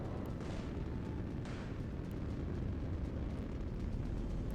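Shell fire and explosions from a space fleet battle in the video game Nebulous: Fleet Command make a dense, continuous low rumble of overlapping booms and blasts that stays steady and heavy throughout, with no voices.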